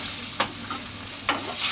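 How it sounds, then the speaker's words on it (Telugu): Ginger garlic paste frying in a pan for a taro and dried prawn curry, a steady close sizzle broken by two brief scraping stirs. "వెల్లుల్లిపాయ పేస్ట్ కూడా దీనిలో వేగిద్దండి"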